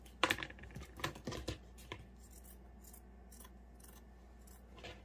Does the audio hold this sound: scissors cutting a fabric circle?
yes